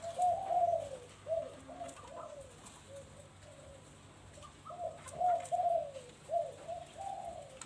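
Doves in a bird breeding camp coo in soft, repeated phrases, close by, with short pauses between calls and a low background hum.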